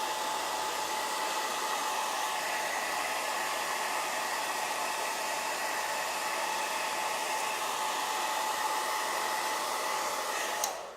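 A handheld heat tool blows air onto a chalk transfer to heat set it, a loud, steady close whirring hiss with a faint high whine that holds evenly before cutting off at the end.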